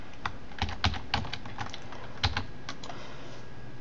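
Keys on a computer keyboard are tapped in a quick, irregular burst of close clicks while the letters of a download code are entered, with no talking.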